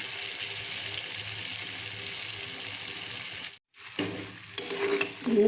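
Mung dal fritters fry in hot oil with a steady, loud sizzle that drops out abruptly for a moment, then returns with crackles and spits.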